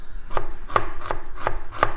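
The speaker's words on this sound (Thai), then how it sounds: "จากนั้นก็หั่นหัวหอมนะคะพี่น้อง" A knife chops an onion steadily on a cutting board, five crisp evenly spaced strikes close up with no talking.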